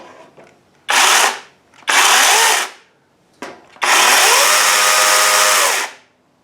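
Kobalt 24-volt cordless chainsaw running in short close bursts: two brief revs, a quick blip, then a longer steady high whine that winds down at the end, with no talking.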